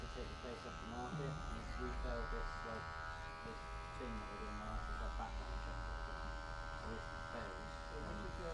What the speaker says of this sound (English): with a cordless clipper as well, allows you to have more freedom with where you want it to go